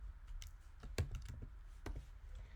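Fast typing on a computer keyboard while writing code, with quick uneven clicks and a few firmer keystrokes, close and fairly quiet, with no one speaking.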